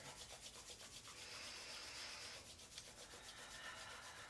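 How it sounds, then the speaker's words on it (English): Two hands rub briskly together during a yoga session, a steady close dry swishing friction that continues for several seconds, quiet and without talk. "let's take the hands together and just rub the hands together"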